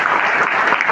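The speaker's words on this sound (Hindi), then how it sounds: "जोरदार ताली उनके लिए।" An audience at a government-backed sports festival registration launch event gives loud, dense, continuous applause, filling the space with steady clapping.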